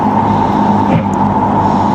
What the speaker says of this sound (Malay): Oi, laju je kereta ni.